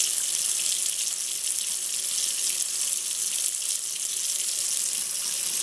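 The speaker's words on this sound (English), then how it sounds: "Get the water the way you want it, and then however, whether you're gonna do it in the tub or the sink or whatever." Water runs steadily from a tap into a sink or tub as a constant hiss of moderate loudness, with no voices over it.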